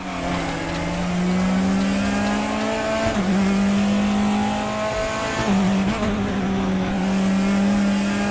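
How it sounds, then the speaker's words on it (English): A BMW race car's engine screams at high revs in a race, holding a loud steady pitch with two quick dips as it shifts gears, other car noise blending in. "Shane's BMW sounds so good"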